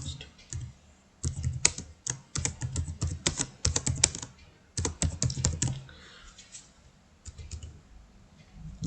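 Rapid bursts of typing on a computer keyboard while entering a payment voucher into accounting software, the close, crisp keystrokes coming in uneven clusters separated by short pauses, with no talking.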